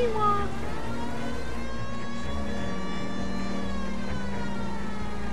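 A police car siren wails in the video game L.A. Noire, a rising and falling tone with harmonics over steady engine and road noise, while someone talks over it.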